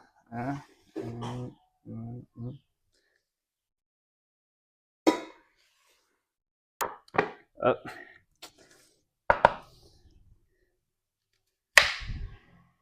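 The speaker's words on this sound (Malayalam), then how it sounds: "ക്യാരറ്റ് സവാള അരിയണം" Knife chopping carrots and onions on a board at home: a handful of sharp, separate chops spaced a second or two apart, after a short stretch of muffled voice.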